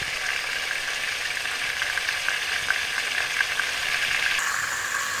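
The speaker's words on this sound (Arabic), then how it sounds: "في هذا الزيت والسمن باش نبدا نحط البصل" Onion frying in a mix of oil and ghee, giving a steady, close crackling sizzle that holds evenly throughout with small pops, no voices over it.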